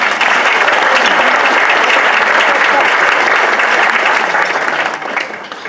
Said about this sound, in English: I think we can clap it up for that.